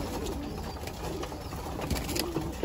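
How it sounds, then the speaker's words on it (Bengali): Many pigeons gather at a home loft and coo softly and repeatedly, a low murmuring chorus with faint fluttering and background bustle. "অনেকগুলো কবুতর জমছে"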